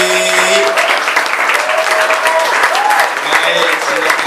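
A church congregation claps during a Sunday service, continuous and loud throughout, with sustained sung or held tones carrying over the clapping.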